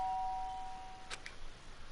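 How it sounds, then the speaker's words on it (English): A soft two-tone doorbell chime from the video game Danganronpa, faint and brief, ringing once against quiet background ambience. "the sound of a doorbell forces me into my room"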